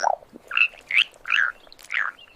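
A frog croaks about five times in quick, uneven succession, each call a clear, close, raspy burst separated by short pauses.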